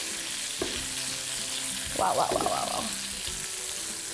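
Mushrooms sizzle steadily in a hot pan on a medium-high burner while being stirred, with a brief scraping, clattering stir in the middle and a voice murmuring once.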